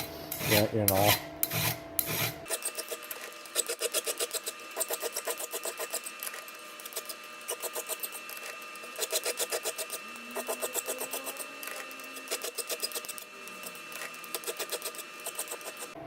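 Rhythmic rasping strokes of a hand file on a chainsaw chain, repeated steadily in short bursts, close up, with no talking.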